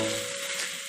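Softened eggplant stirred in a hot pan gives a brief, steady sizzle with a soft scraping stir, close and even, no voices.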